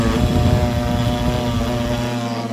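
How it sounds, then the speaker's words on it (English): Failing 500 W air-cooled brushless DC CNC spindle running, a loud steady droning whine with strong harmonic tones and rough low-end rumble, close and continuous. "I'm only halfway through the project and my CNC spindle is dying."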